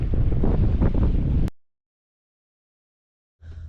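Wind roars across the microphone aboard a sailboat anchored in the Florida Keys, a loud, buffeting rush that cuts out abruptly and returns after a silent gap.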